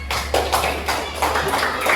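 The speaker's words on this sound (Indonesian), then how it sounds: "Yuk tepuk tangan semuanya, semangat." A group of children and teachers in an Indonesian classroom clap their hands together in a lively, uneven rhythm, close by, with a low steady hum running underneath.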